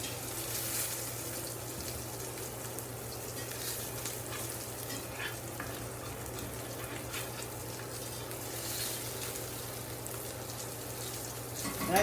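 Salmon fillet searing in a hot pan gives a steady, dense sizzle that holds evenly for the whole stretch with occasional crackles, close and continuous with no talk.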